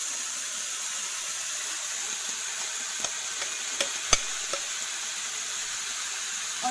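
Samosa stuffing with boiled peas mixed in a hot pan gives a continuous steady sizzle, with a few sharp spatula taps and scrapes against the pan, close and fairly quiet, with no talking.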